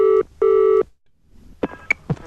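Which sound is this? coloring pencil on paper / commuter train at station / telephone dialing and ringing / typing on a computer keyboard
telephone dialing and ringing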